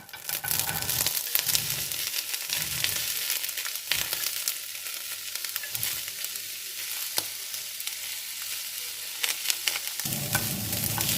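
Almonds stir-roasted in a little oil in a pan over low heat give a steady close sizzle, with scraping stirs and occasional clicks of nuts shifting, continuous throughout with no talking.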